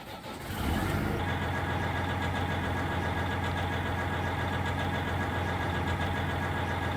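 A long truck with a rebuilt pre-emissions Series 60 engine in Farming Simulator 19 settles into a steady diesel idle after a short start-up swell. The rumble stays loud and close, with an even hum that continues to the end.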